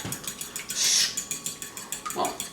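Eggs beaten in a bowl for homemade beet pasta, with a quick run of light clinking strokes against the dish and one brighter scrape midway, close and fairly quiet.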